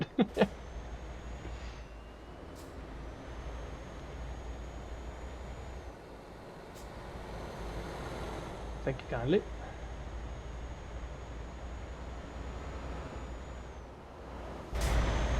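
A low truck engine rumble in Euro Truck Simulator drones steadily under occasional speech, with a few sharp hiss-like bursts and a faint whine rising and falling over the background.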